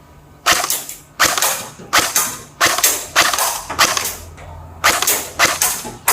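CYMA M14 electric airsoft rifle firing single shots, about nine sharp, loud, close cracks at a steady spaced rhythm, no talk.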